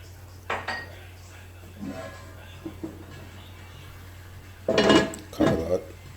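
A lid clanks onto a cast iron pan holding African spider plant greens set to boil in a little water, with a few scattered kitchen clinks before two louder metallic knocks near the end, close by over a low hum.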